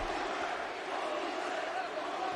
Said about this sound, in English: And the crowd just going absolutely wild for this DDT through the table.